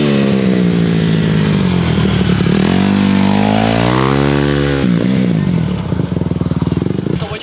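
A Honda CRF150R dirt bike riding and swerving, its engine loud and close with a rising and falling rev pitch as it accelerates and slides, then dropping to a rougher, choppier note.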